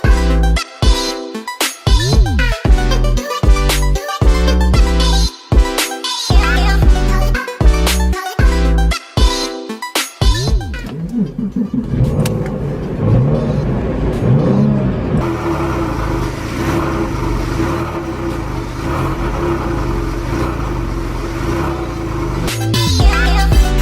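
Porsche 911 996 Carrera engine pulls and revs on the road, loud and close, with choppy bursts of throttle early on before settling into a sustained, even drone as the car cruises.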